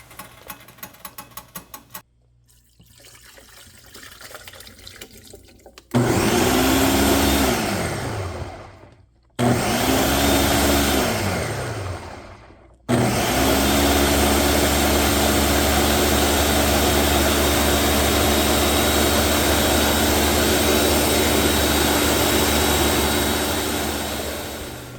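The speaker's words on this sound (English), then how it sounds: "I'm going to put it into my blender and blend it thoroughly" A kitchen blender runs at full power, thoroughly blending cooled homemade asparagus soup, with a loud steady motor whir that stops twice briefly before starting up again and continuing.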